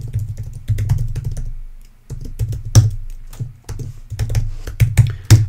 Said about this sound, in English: I'm gonna type mine.